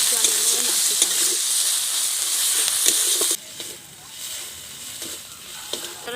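Ginger-garlic paste fries in a pan with a loud steady sizzle while a spoon stirs and taps against the metal, the hiss dropping noticeably quieter about halfway through as stirring continues.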